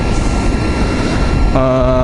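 A Yamaha R15 motorcycle fitted with an Akrapovic exhaust gives a loud, deep, steady engine drone that rises into a sharper, tonal rev near the end, with a voice talking over it.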